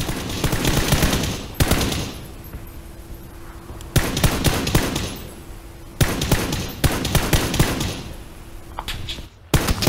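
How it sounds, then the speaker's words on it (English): Game gunfire from PUBG, several loud bursts of rapid shots in clusters spaced a couple of seconds apart, each with a sharp crack and a rolling tail, close and dominant with no talk. "So I proceeded to try to shoot the guys just by themselves"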